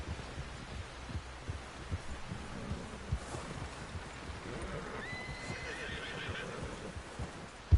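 A horse in Red Dead Redemption 2 whinnies faintly amid a low rumbling game soundscape, with scattered hoof clops and thumps.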